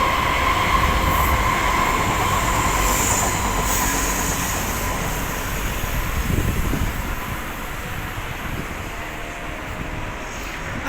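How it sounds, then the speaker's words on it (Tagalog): A long train rushes past in Singapore, a loud, steady rolling roar with wheel clatter and high squeals, staying close throughout without any talking. "Haba ng train."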